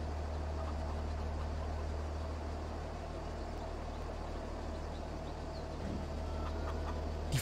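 Chickens in the Farming Simulator 22 video game make faint, scattered clucks over a constant low hum and hiss of in-game ambience, with no talking.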